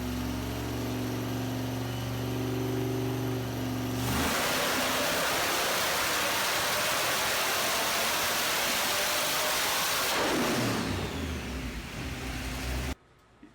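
A car engine on a dyno revs up hard through a loud sustained pull with rising whine, after a lower rumbling stretch, then cuts off abruptly near the end.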